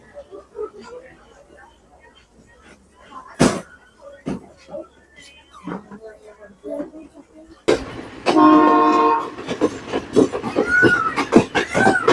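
Rail noises with clanks and sharp knocks, then a loud rumbling train passes nearby with a horn tone on a Sri Lankan railway line; people talk over the sounds.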